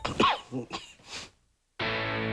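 A person in a NyQuil advertisement sneezes and coughs in a quick series of close, harsh bursts, followed by a short silence and then an abrupt, loud burst of music.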